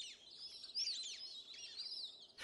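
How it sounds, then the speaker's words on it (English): Plumed whistling ducks give repeated high whistling calls, a dense overlapping chorus of sharp rising and falling notes that carries on without a break, with a brief noisy burst at the very end. "the loud whistling calls give them away"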